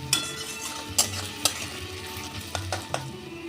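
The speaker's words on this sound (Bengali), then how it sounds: "দিয়ে ভালো করে ভেজে নেব।" Onions and whole garlic cloves with whole spices frying in a pan, a soft steady sizzle punctuated by repeated sharp scrapes and taps of a spatula stirring against the metal.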